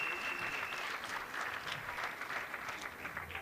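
A crowd at a year-end comedy gathering breaks into sustained applause, a thick, even clatter of many hands clapping without pause and no talking.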